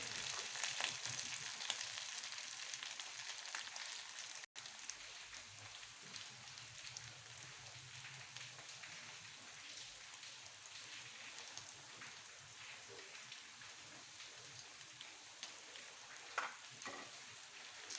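Drumstick leaf bhaji being stirred with turmeric in a pan, a soft steady sizzle of frying running throughout with faint scraping of the spoon, quiet and close, no voices.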